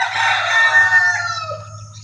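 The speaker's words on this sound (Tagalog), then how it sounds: "Pwede rin itong gawing pangati kasi yung tilaok nito ay napakaganda." A labuyo (wild jungle fowl) mestizo rooster crows once, close and loud, a long ringing call that trails off, over a low steady background hum.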